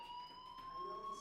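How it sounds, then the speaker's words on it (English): A video game fire alarm rings steadily, a sustained electronic tone with bright overtones holding at an even, fairly loud level throughout, with no talk over it. "Hey, do you hear that fire alarm?"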